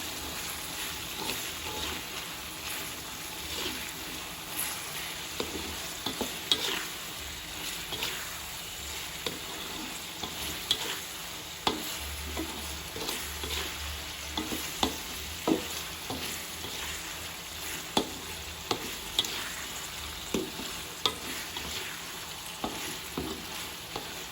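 Squid with stink beans and green chili sizzling steadily in a pan while a spatula stirs and scrapes, irregular clicks and taps over a constant frying hiss, close and moderately loud, no talking.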